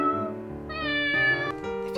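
A voice imitates a cat, giving a single drawn-out meow that rises and then falls in pitch, clear and close with no talking around it.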